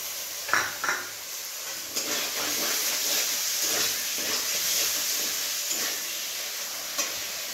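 Fried paneer and sour yogurt hit a hot pan already holding turmeric for a vegetarian paneer masala, sending up a steady sizzling hiss with a few soft clinks of a spoon against the pan throughout.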